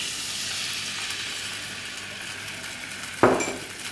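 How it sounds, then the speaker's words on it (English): Orange juice hits melted butter in a pan for crêpe Suzette sauce, a steady broad sizzle throughout, then a sudden louder burst of hissing near the end as the liquid goes in, close and with no voices. "So once the butter has melted, we'll put in like half a cup of orange juice."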